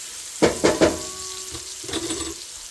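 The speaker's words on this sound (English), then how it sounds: "2 cloves worth of minced garlic. And we're going to get that heated up." Minced garlic from two cloves goes into heated oil, with three quick bursts of sizzle and clatter followed by a softer, settling crackle.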